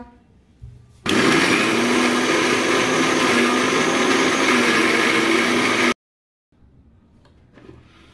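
A mixer grinder blends garlic, green chili and coriander leaves into a paste, a loud steady whirring roar that starts abruptly after a brief quiet moment, holds for about five seconds, then cuts off sharply into near silence.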